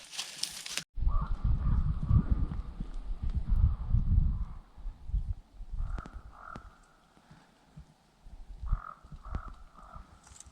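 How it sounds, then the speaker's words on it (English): Crows caw repeatedly from a hill in the Maine woods, their harsh calls coming in short bursts of two or three over an uneven outdoor rumble of footsteps and movement nearby. "crows squawking over this hill, so we're gonna go up there and see what they're squawking about"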